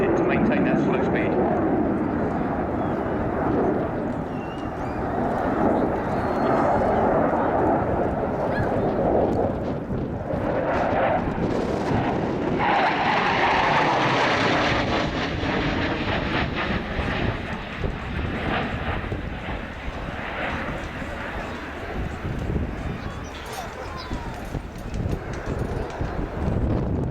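A Polish Air Force MiG-29 jet engine roars loudly and continuously during a slow-speed air show pass, a broad rumbling drone overhead, swelling and shifting slightly over nearly half a minute.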